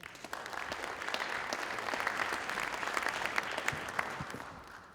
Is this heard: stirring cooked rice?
no